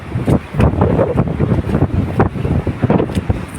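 A river in flood rushing past a bridge gives a loud, constant roar of turbulent water, thick with wind buffeting on the microphone and broken by brief louder surges, with no speech.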